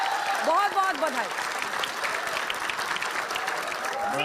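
Studio audience applauds at the close of a televised Hindi debate show, a dense steady clatter of clapping that fills the clip, with a voice over it briefly near the start.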